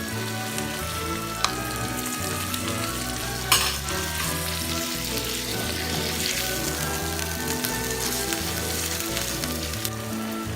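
Minced meat (keema) fries in a pan with a steady, close sizzle, with stirring clatter and a brief louder scrape partway through; nobody speaks.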